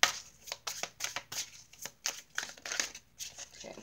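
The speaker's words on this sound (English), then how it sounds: "Okay, so I want to stop shuffling." Deck of tarot cards being shuffled by hand during a reading, a steady run of crisp riffling and slapping bursts repeating every half second or so, close and fairly quiet with no talk.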